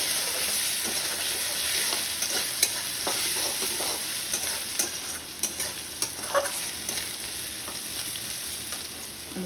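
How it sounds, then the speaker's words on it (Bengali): Potatoes with a little salt frying in a pan in a home kitchen, a steady close sizzle with stirring clinks and scrapes throughout, no voices. "আলুটা দেখুন লাল লাল করে ভাজা হয়ে গেছে।"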